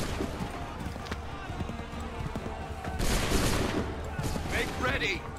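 Musket volleys in the Assassin's Creed 3 video game, dense crackling gunfire bursting loudly over battlefield noise, with shouted in-game commands audible throughout.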